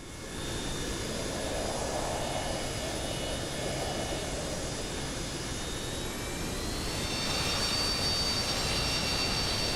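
Jet engines of a FlightSim Studio 727-200F freighter in Microsoft Flight Simulator 2024 drone steadily with high whining tones, swelling louder toward the end as the engines spool up, with no voices over the sustained roar.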